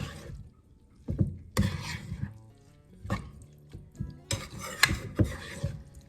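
Shrimp in thick gravy being stirred in a pot for Guyanese bunjal white belly shrimp curry, heard as intermittent close wet scrapes and clinks of a spoon against the pot, separated by quiet gaps.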